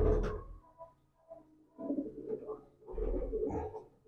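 A young male racing pigeon coos softly nearby in low, throaty pulses with short pauses between phrases.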